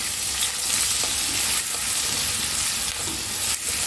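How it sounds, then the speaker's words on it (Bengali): Finely grated chopped garlic frying in a pan for Bengali egg chilli, a loud, close, continuous sizzle with occasional stirring scrapes and no talking. "এবার আমি এমনি রসুন কুচিগুলো দিয়ে দিচ্ছি।"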